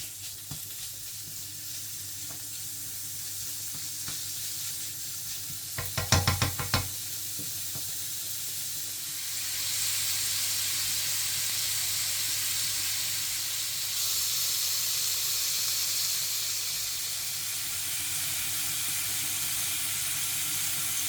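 Bacon frying in warm oil in a pan hisses steadily, with a short burst of knocks and clatter as it goes in, after which the sizzle grows louder and fuller and keeps going with no one speaking.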